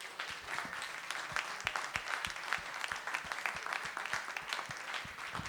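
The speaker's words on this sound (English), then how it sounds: "let's give the participants a round of applause and thank them" Audience applause after a talk on Minnesota beer tax laws, dense and steady clapping from a crowd that holds at an even level for the whole stretch, with no voices over it.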